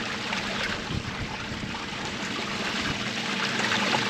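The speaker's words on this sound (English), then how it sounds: "I can actually use the water to wash the lighter material out the top" Water swirls and sloshes in a gold pan as lighter material is washed out over the rim, a steady close trickling and splashing with no talk.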